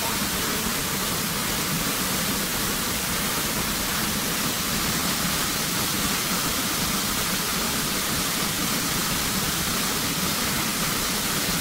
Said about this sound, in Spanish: para ver el tamaño de la cascada